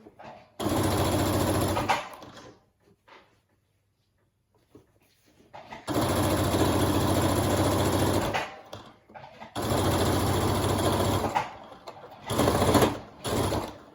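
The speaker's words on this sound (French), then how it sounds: "je tends bien mes deux épaisseurs et je viens me positionner et je fais une surpiqûre à 1 mm" A sewing machine topstitching two layers of fabric on a cloth face mask, running in long loud steady bursts separated by quiet pauses, with a couple of short bursts at the end.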